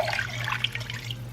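Water pours steadily from a container into a cooking pot holding rinsed lentils and vegetable stock, a close, bubbling, splashy stream over a low steady hum.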